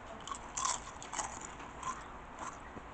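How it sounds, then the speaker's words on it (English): Crisp, close crunching bites and chewing of crispy eggplant bacon, several sharp crackles in a row, with no talking. "You can hear that crunch."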